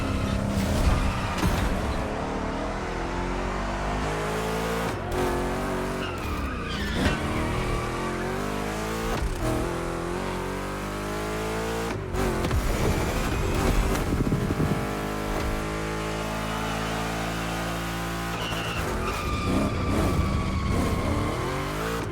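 Race car engine in The Crew Motorfest racing a lap, a steady loud engine drone with shifting revs, gear changes and brief tire skids throughout, no talking.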